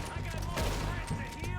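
Gunfire erupts in the western game Red Dead Redemption 2, a rapid burst of overlapping shots in a dense, loud fusillade, with game sounds layered beneath.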